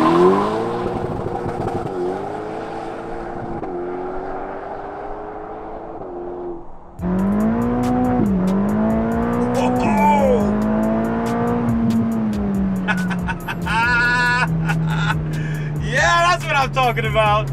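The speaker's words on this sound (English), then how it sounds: "We're gonna engage launch control" A 2021 Ferrari Roma launches hard on launch control across a desert stretch, its engine holding at high revs, then roaring up through rising pitches after an abrupt jump, loud and close, with a person talking throughout.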